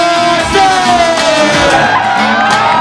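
Crowd at a Chandigarh stand-up comedy show cheering and whooping as the comedian Parvinder Singh takes the stage; loud overlapping shouts and yells fill the room, with a sliding musical tone and some talk mixed in.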